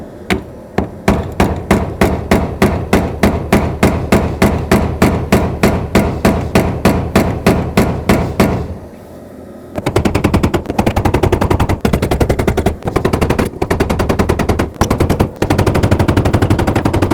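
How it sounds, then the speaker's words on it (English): Repeated metal taps of a flat pry bar against a fuel pump lock ring on a 2003-2008 Toyota Corolla, a steady rapid rhythm of sharp close knocks for about eight seconds, a brief pause, then faster dense tapping continuing to the end. "I'm just going to take flat pry bar that I have and very gently tap it"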